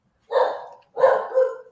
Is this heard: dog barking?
yes